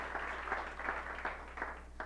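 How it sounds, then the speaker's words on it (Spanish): A congregation claps together at an evening Bible study, a steady run of handclaps with rhythmic surges, moderately close and without talk over it. "Dele un buen aplauso al Señor en esta noche."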